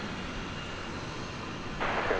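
An American Eagle E-Jet airliner on a go-around at DFW Airport, a steady distant jet engine roar that swells slightly louder toward the end.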